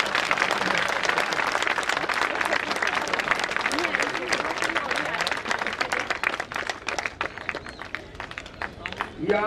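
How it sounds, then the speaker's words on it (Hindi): An audience at a children's yoga event bursts into loud, sustained applause, many hands clapping densely and continuously, with a voice briefly heard near the end. "ताली तो जोर से बजाओ।"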